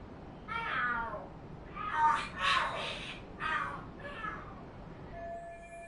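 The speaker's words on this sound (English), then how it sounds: "Are there cats fighting?" Cats fighting and screaming in a video game: a series of loud, wailing yowls and caterwauls rising and falling over several seconds, heard over a steady background hiss.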